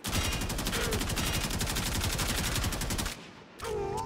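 Rapid automatic gunfire in the video game Warframe is loud and continuous for about three seconds, then a short pause and another short burst.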